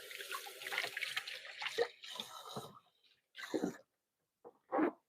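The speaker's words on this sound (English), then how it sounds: "Give my hands a quick rinse." Hands get a quick rinse under a running kitchen tap, with short bursts of splashing water that start and stop several times, close and fairly quiet.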